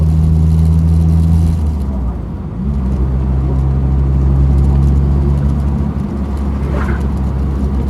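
A Maestro van fitted with a swapped-in 2-litre turbo engine drives along with a steady loud engine drone and road noise, the pitch dipping briefly around a gear change before pulling on again.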